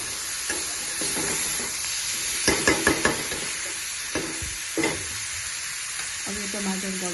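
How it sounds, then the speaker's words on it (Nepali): Large pieces of chopped tomato sizzle and fry steadily in a pan for a Nepali onion and tomato pickle, with a constant close hiss broken by a few sharp knocks and scrapes of stirring. "अब यसमा राखिदिने काटेर राखेको टमाटर, मैले ठुलो पिस गरेर काटेको छु। अब यो टमाटर गल्दासम्म चाहिँ पकाउने।"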